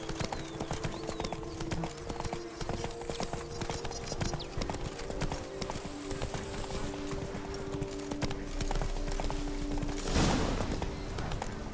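Hooves of the horse Roach in the video game The Witcher 3: Wild Hunt, a steady rapid clip-clop of galloping over a continuous bed of ambient game sound, with a louder rustling burst near the end.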